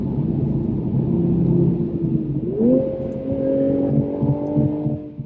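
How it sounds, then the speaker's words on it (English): A 2023 Toyota Supra engine idles with a low rumble, then blips upward in pitch as it automatically rev-matches on a downshift and settles at a higher steady drone, close and loud. "The rev matching is awesome. You just put it in gear and it's ready."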